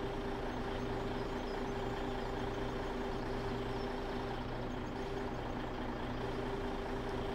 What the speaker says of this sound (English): We are lifting up this entire truck